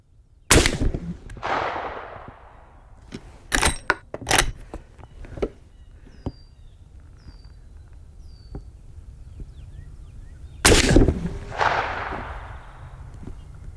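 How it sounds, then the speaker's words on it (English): A Marlin 1895 SBL lever-action rifle fires 430-grain slugs outdoors, each loud, sharp report trailing off in a rolling echo. Two shots are well apart, with smaller cracks and clicks between them. "Let's see how these 430 grain slugs hammer it."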